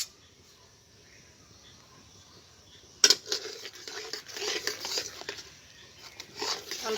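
Puffed rice powder being stirred into milk in a pot: after a quiet stretch, a sudden clink sets off a run of scraping and light knocking of a spoon against the pot, close and irregular.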